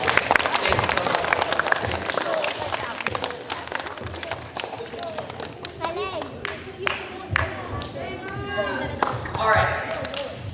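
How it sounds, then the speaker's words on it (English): Audience applause for volunteers at a science museum presentation, a dense spread of clapping over about ten seconds with crowd noise and some talk mixed in. "let's give our volunteers a round of applause"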